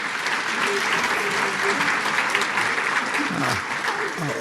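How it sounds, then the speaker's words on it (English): Audience applause for panelists at a business event, a dense, even round of clapping sustained at a steady level, with faint voices murmuring underneath. "Please, another round of applause for our amazing panelists."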